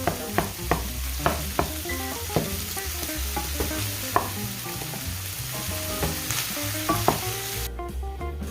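Sausage fries in a pan with a steady sizzle while a wooden spoon stirs and scrapes, giving repeated knocks against the pan over the frying, with no talking.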